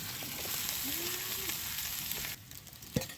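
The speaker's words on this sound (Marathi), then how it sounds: "तेल कमी पडलं होतं सुकटीला तळायला" Steady oil sizzle from dried fish frying over a wood fire fills the clip, close and fairly loud, with a few light clicks and a brief clatter near the end.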